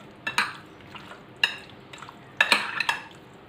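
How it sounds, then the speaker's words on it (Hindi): Spices are stirred into a chicken marinade in a bowl, a few bursts of scraping and clinking utensil strokes separated by short pauses, fairly close and clear. "इन सब चीज़ों को हम अच्छी तरह से मिक्स कर लेंगे"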